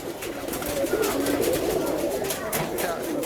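Rajshahi Jagdobaz pigeons on a pigeon farm coo in a steady, overlapping chorus, close and continuous throughout with no pauses.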